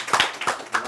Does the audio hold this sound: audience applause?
yes